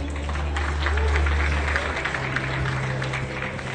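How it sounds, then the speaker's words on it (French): Audience applause at a ceremony, steady dense clapping from a crowd holding at an even level throughout, with a low hum underneath. "Applaudissements s'il vous plaît."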